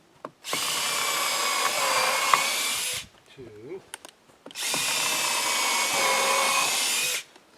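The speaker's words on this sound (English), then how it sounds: "So now I've got 4 more screws that I'll just put in equally spaced between them." Power drill driving lag screws into a ledger board fastened to a building, two loud sustained whining runs of a few seconds each, split by a brief pause with a short voice in between.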